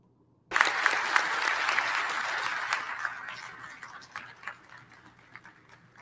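Applause at a Charter Day convocation after a mayor is introduced: a large crowd claps loudly and steadily, close, then gradually thins and fades over several seconds.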